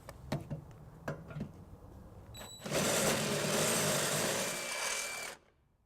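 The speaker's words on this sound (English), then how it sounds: "we have upgraded to a bigger bit. So we're going to go ahead and just enlarge this to be able to get our bolt through" A power drill enlarges a pilot hole with a bigger bit during a trailer hitch install on a 2014 Ford Focus, a few knocks and clicks, then a loud steady whirring grind for several seconds before stopping abruptly.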